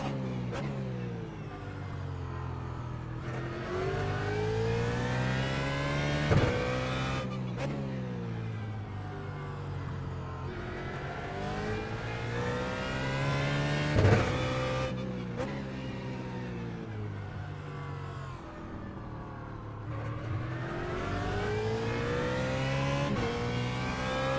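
Simulated BMW GT3 race car engine in iRacing at Circuit of the Americas, revving steadily with rising pitch sweeps and abrupt gear-change drops, loud and continuous for the whole stretch with no talk over it.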